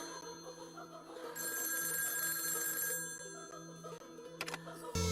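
A telephone rings in a scene from the Hindi film Humraaz, a steady electronic ring lasting a couple of seconds, fairly quiet and mixed under background music and room sound.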